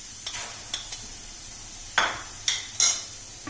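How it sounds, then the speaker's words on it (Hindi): Cardamom seeds crackle and pop in hot cooking oil in a few sharp bursts, with quiet gaps between the sizzles. "इलायची को भूनें।"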